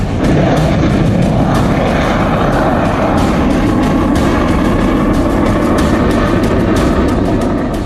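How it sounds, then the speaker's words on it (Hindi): Indian Air Force fighter jets roar low over an expressway serving as a runway, a dense, loud, continuous engine rumble and roar that holds steady throughout with no voices. "हवा में लहराते और गरजते हिंदुस्तान के फाइटर जेट"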